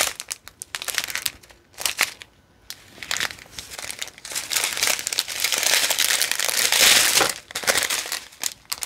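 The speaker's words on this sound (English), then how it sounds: "Sorry for the crinkling noises." Packaging crinkles and crunches continuously and close up while kit items are sorted, with dense rustling bursts that swell louder in the middle and briefly pause between handlings.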